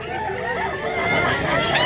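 Chickens and roosters at a crowded fowl market in Mantalungon, Cebu, raise a dense, loud chorus of clucks and crowing up close.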